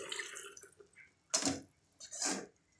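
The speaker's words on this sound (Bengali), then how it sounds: "এখন আমি জল দিয়ে দিই।" Water poured into a cooking pot while a river fish dish with five kinds of greens is being prepared, heard as two short, close splashing bursts after a brief quieter stretch.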